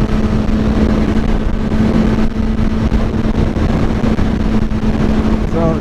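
Suzuki GSX-R 750 K7 sport motorcycle with a quick-shifter, its engine droning loudly and steadily at close range throughout, a constant rough hum with no pauses.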